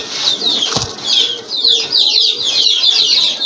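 Velvet shield pigeons, including a tiger velvet shield pair kept for sale, make a busy, steady flutter of wings and restless bird sounds close by, with one sharp thump near the start.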